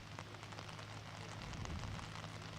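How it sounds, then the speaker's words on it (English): Steady rain shower falling across an outdoor cricket ground during a women's match, a continuous broadband hiss with soft patter, fairly distant and unbroken throughout. "I spoke too soon on that rain"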